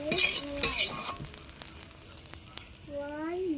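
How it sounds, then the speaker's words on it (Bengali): Spring onion greens fry in a pan, a close, bright sizzle with quick stirring scrapes that fades to a quieter hiss, and a voice briefly sounds near the end. "আমার কিন্তু পেঁয়াজকালি ভাজা হয়ে গেছে"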